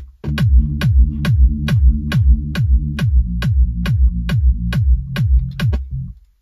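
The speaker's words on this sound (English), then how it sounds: "First of all, there's the deep bass line, sound like this." A deep, simple and soft synth bass line from a trance track plays steadily in a repeating pattern of even notes, with a light ticking percussion on top, loud and alone.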